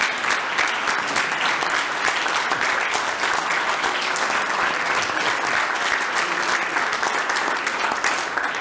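An audience at a Virginia Commonwealth Transportation Board meeting claps in sustained, dense applause that holds steady for several seconds without pause.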